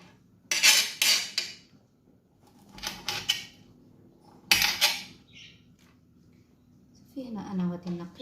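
A knife cuts a lemon into small pieces in a kitchen, giving three bursts of crisp chopping and knife clatter with pauses between them, close by, followed by someone talking.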